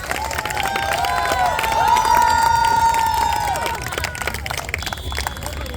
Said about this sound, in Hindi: बार जोरदार तालियां हो जाए